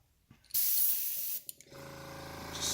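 A paint spray gun being cleaned of leftover paint lets out a loud burst of spray hiss, then a brief pause with small clicks, followed by a second longer, slightly softer spray stream.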